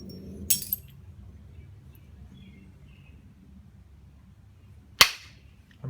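Stone is flintknapped, with two sharp, bright clinking strikes a few seconds apart, each a quick crack close by, over a quiet room background with no talking.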